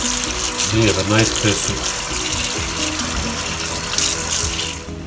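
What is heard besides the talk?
rinsing pork ribs under running water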